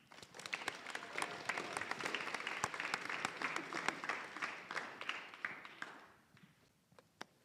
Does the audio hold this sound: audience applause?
yes